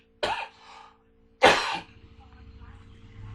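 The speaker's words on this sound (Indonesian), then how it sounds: "lagi batuk." Two sharp coughs from a teacher during a Zoom exam-review class, close to the microphone and about a second apart, the second one louder and longer, over a faint steady hum.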